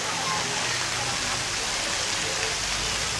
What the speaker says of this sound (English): And here's the splash pad.